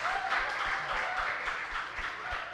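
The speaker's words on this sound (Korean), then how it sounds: "우리 목사님께 우리 한번 감사의 박수 한번 보내면 좋을 것 같습니다" A church congregation at a Sunday afternoon service applauds the pastor, a steady mid-level patter of many hands that continues evenly for a few seconds.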